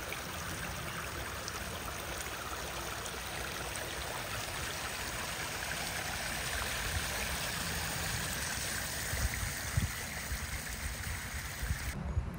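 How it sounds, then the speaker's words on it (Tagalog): Water flows steadily at a lake in Georgia, USA, a continuous broadband rush and trickle heard close and alone, with no talking. "Ayan po yung umaagos na tubig"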